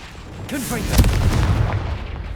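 A Confringo explosive spell in the wizarding game Hogwarts Legacy lets out a whooshing cast, then a single sharp close blast with rumbling debris trailing off, and a character speaks just before it.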